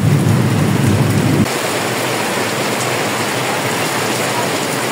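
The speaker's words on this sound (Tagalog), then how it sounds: "O, lumakas na nga yung ulan. Grabe talaga yung ulan." Storm rain hammers down hard at an outdoor boodle fight gathering, a loud roaring wash with a deeper rumble that cuts off early, leaving a steady, slightly softer downpour.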